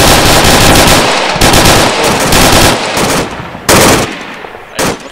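Loud close automatic gunfire in the military shooter Arma 3, rapid bursts broken by short gaps and a few sharp single cracks.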